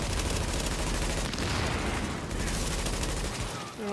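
Rapid automatic gunfire in the shooter game Tom Clancy's The Division, a loud, dense, continuous burst of shots that stays close and unbroken before cutting off at the very end.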